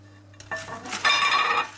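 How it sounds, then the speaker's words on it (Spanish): A spoon scrapes and clinks around a pot as milk chocolate is stirred over medium heat for a truffle cake, with metallic knocks and a sustained stirring clatter, close and fairly loud with no talk. "Y estaremos aquí removiendo sin parar a fuego medio hasta que rompa a hervir"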